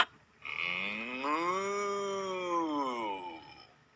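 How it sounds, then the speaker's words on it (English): A single long cow moo, loud and close, swelling in the middle and trailing off over about three seconds, heard on its own without talk. "I see a cow."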